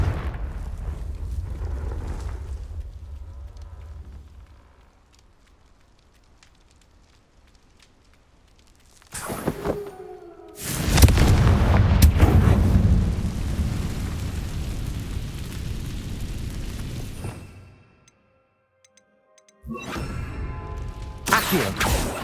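Explosive spells blasting in Hogwarts Legacy: a rumbling fiery eruption fades out, then after a lull a sharp burst opens into a long, loud roaring blast that dies away, followed by another crackling hit near the end.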